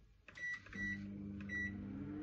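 A microwave oven is set to maximum power with a plate of melted chestnut cream inside, giving a few quick beeps from its keypad before the steady low hum of it running takes over.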